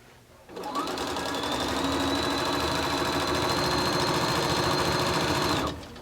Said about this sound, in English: I'm just taking a full length here and sewing it.